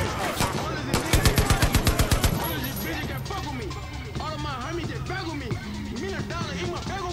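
A big gun firing in a video game, a fast rhythmic burst of loud automatic shots near the start, followed by continuous battle noise and rumbling while someone talks over it.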